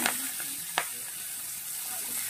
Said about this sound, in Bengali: শাকটা দিয়ে খুব সুন্দর করে ভেজে নেব।